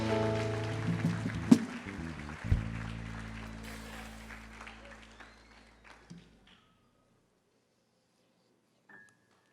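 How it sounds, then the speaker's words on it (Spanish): A church congregation claps loudly during a Spanish-language sermon, a burst of applause over sustained organ or keyboard chords that fades out after about six seconds, leaving near silence. "Aplausos fuertes al eterno."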